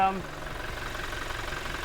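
A 2022 Toyota engine, fitted with a catch can and fuel pre-filter, idles steadily with an even, low mechanical hum and faint ticking that holds constant throughout.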